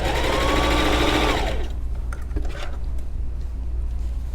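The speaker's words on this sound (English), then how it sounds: "You're going to sew it right here on this edge right here." A sewing machine stitches along the edge of a pouch bag, a loud close whirring run that stops after about a second and a half, followed by quieter handling noises over a low background hum.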